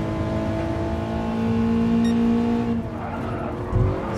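A BMW M3 E30 race car in Gran Turismo Sport, its engine droning steadily and rising in pitch close up, with a short tire squeal near the end and no talking.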